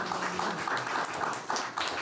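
Faint, diffuse applause from a crowd at a school board meeting, a soft spattering of clapping that lasts a couple of seconds.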